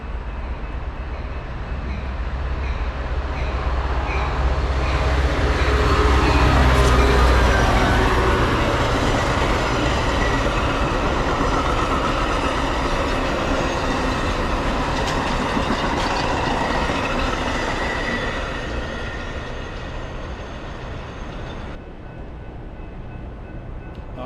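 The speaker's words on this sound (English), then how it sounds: "another inbound Metra commuter train. Loomis Street, Naperville." An inbound Metra commuter train on the BNSF line at Loomis Street, Naperville, passes during a snowstorm, a loud sustained rumble and rush of wheels that swells and holds for about twenty seconds before dropping away sharply.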